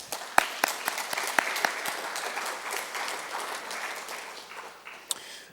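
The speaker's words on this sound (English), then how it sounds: "give yourselves a round of applause" A university campus audience applauds, with close individual claps cracking over a steady crowd clatter that thins slightly toward the end.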